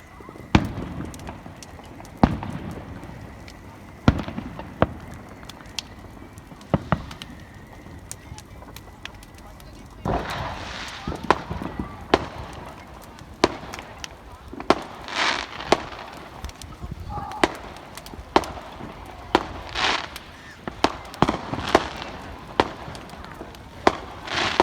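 Bonfire night fireworks pop and crackle at varying distances, with scattered bangs and bursts of crackling over steady background rumble, while people talk nearby.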